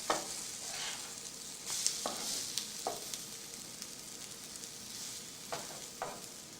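French toast frying in a pan, a steady soft sizzle with a few sharp clicks and scrapes of a spatula, close and moderately quiet, no voices.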